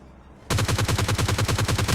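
Rapid automatic gunfire in the mobile battle royale PUBG Lite, a loud, steady burst of about a dozen evenly spaced shots that starts abruptly after a brief quiet moment and runs without talk.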